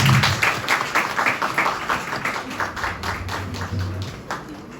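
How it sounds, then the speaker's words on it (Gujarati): An audience at a church sermon event claps steadily, a dense run of overlapping handclaps that starts loud and gradually thins and softens. "આપણે જોરદાર તાળીઓ પાડીશું"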